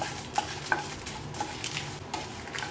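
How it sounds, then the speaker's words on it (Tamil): About fifteen dried red chillies fry in hot oil for a garlic chilli chutney, a soft, steady sizzle broken by scattered stirring clinks against the pan, with no talk. "காஞ்ச மிளகாய் நல்லா வறுத்து எடுத்துக்கலாம்"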